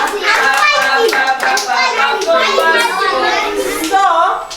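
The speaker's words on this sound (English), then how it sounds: "All of you clap for passport." Children clap their hands during a virtual field school Bible lesson, a steady patter of claps mixed with children's voices and speech.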